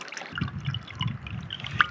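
Mountain spring water trickles and splashes into an old water tank in a rural outdoor setting, making a close, steady babbling flow with small drips and gurgles throughout.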